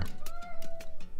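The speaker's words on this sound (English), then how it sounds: "Hey, kitty." A cat meows near the microphone, a short sequence of repeated high, tonal cries against faint background noise.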